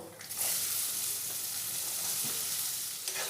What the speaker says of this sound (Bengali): এবার ওতে দিয়ে দেবো পেঁয়াজ কুচি